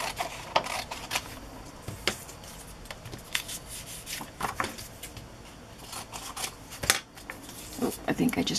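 Scissors snip through material for a handmade baby journal cover, with sparse, close cuts and rustling handling noises at a quiet level between the snips.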